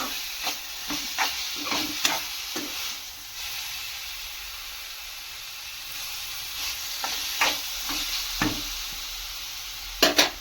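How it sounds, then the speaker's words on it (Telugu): Beetroot frying in a pan with mustard seeds, curry leaves, green chillies and chana dal, a soft sizzle broken by sharp scraping stirs and clinks, close by and without any voices. "బీట్రూట్ అయితే బాగా వేగిపోయాయి."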